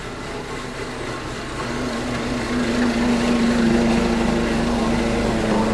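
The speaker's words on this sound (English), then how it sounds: "I've just passed a guy with the most pointless lawnmower in the world." A small electric lawn mower cuts long grass outdoors, giving a steady mid-distance motor whine that holds a sustained tone and grows slightly louder as it passes, with no talk over it.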